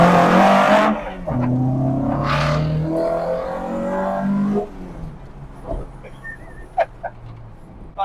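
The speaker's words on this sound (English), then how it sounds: "I can't get over that engine noise." A resto-mod Ford Escort fitted with Weber carburettors revs hard and loud up close for several seconds, then drops back to a quieter, uneven idle with a few sharp blips.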